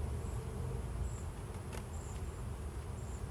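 Honeybees droning in low, steady buzz around an open hive during an inspection, with faint occasional higher whines and no talking.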